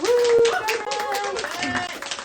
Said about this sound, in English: let's give a round of applause to Jonas Kyle, the owner of the bookstore